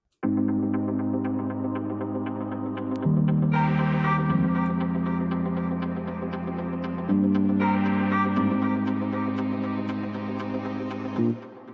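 A buzzy synth lead from the Nexus preset "Buzz Me" plays a sustained, throbbing line for an Afro house track, shifting pitch every few seconds with a brighter, fuller layer coming in midway, loud and alone.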